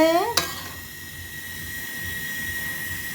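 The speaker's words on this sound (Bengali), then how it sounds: "মশলা কষানো হচ্ছে।" Spices being sautéed and stirred in a pan for a Bengali raw jackfruit curry with shrimp and coconut, a sharp clank at the start followed by a steady soft sizzle and faint stirring.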